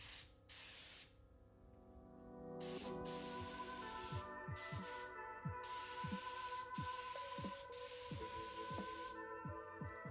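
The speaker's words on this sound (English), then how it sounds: "After staining, I spray some water-based poly." Water-based polyurethane is sprayed onto an ash wood table in repeated hissing bursts separated by short pauses, close and steady, with a faint tonal whine running underneath.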